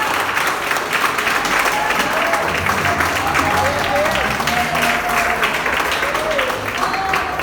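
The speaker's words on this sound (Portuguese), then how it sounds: "Você pode aplaudir o Senhor bem forte em nome de Jesus?" A church congregation applauding, dense sustained clapping filling the room for the whole stretch, loud and even, with voices and singing faintly mixed underneath.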